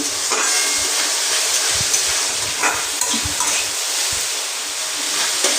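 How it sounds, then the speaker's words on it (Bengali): Masala of turmeric, chili powder, chopped tomato and sugar fries in a pan for a paneer dish, a constant loud sizzle broken by light clinks and scrapes of a spatula stirring. "মশলাটা ভালো করে কষে নেব।"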